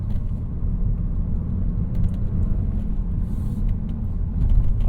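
An all-wheel-drive car engine revs hard as the vehicle launches off the line and pulls away, a heavy continuous rumble that swells toward the end.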